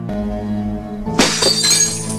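A plate smashed in a film scene: a low hum gives way to a sudden loud shatter of breaking crockery, followed by a second of scattering, tinkling shards.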